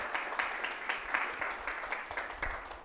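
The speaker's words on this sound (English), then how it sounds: "Do you want to give yourselves a round of applause?" Applause from a church congregation at Shannon Christian Church, a lively clatter of clapping hands with distinct claps popping out of the steady patter, fading slightly over nearly three seconds.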